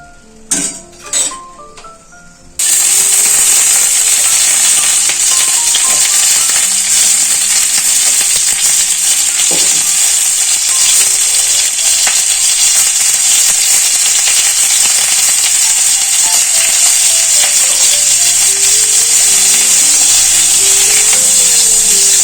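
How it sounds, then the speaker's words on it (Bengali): A few utensil clinks come first, then pointed gourd drops into hot mustard oil and a loud, even sizzle takes over and holds steady to the end. "প্রথমে ভাজবো পটল"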